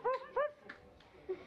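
A small dog gives a few short, high yips and barks close by, two quick ones at the start, then fainter ones spaced out, over a quiet background.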